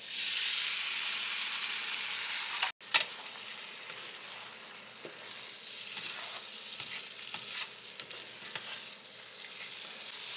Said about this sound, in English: Meanwhile, let's get these eggs cooked up.